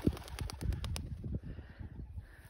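Young racing pigeons released on a first two-mile toss flutter and take off in a burst of wing flaps at the start, followed by fainter flapping and distant outdoor ambience.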